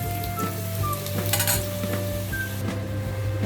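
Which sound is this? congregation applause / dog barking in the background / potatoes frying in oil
potatoes frying in oil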